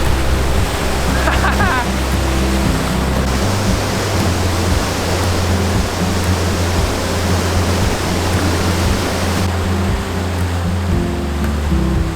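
Avalanche Creek rushing through a narrow canyon, a loud continuous roar of churning water filling the whole stretch without a break.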